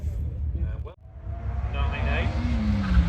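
A Mazda MX-5 accelerates past out of a bend at the Harewood hillclimb, its engine note sweeping by amid outdoor crowd noise while a commentator talks over it.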